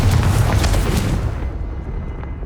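Confringo fire spell explosion in Hogwarts Legacy, a loud booming blast with crackling debris that quickly fades into a low rumbling tail.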